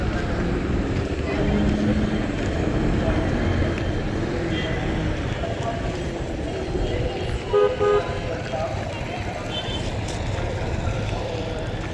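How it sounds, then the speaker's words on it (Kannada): At the Veerarani Mallamma bus stand in Bailahongal, a bus arriving from the depot rumbles in steadily with a brief horn toot, while people talk over the constant engine and traffic noise. "ಡಿಪೋಯಿಂದ ಈಗ ಬಂದಿದೆ ಗಾಡಿ"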